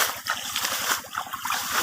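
Water splashes and trickles steadily as it is poured into plastic to irrigate bitter gourd plants, a continuous close sloshing outdoors.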